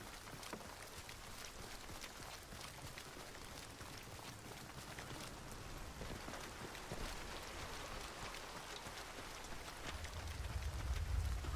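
Rain falling in the video game Hunt: Showdown, a steady dense patter of drops, fairly faint and unbroken, with a low rumble growing near the end.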